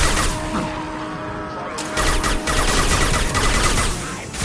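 Rapid bursts of sci-fi weapon fire in Mass Effect 2 Legendary Edition combat, dense crackling volleys with a short lull, then sustained loud shooting through to the end.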